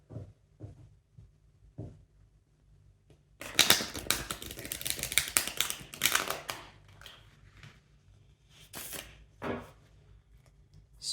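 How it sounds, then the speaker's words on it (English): Tarot cards are reshuffled close by, with soft taps and handling at first, then a dense run of rapid riffling and flicking that breaks into shorter bursts of card snaps. "Just going to reshuffle."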